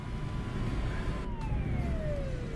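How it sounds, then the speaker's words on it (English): Police car siren behind a DAF gas tanker truck in Euro Truck Simulator 2, a steady falling wail over a loud continuous engine and road rumble. "And police car is driving behind me."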